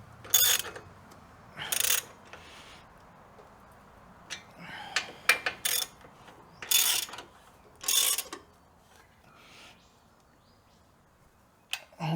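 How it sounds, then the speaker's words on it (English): Ratchet strap being cranked tight while fitting a winch, several separate bursts of sharp clicking ratchet pawl noise with quiet pauses between, close and clear. "we'll crank her up with the ratchet straight after"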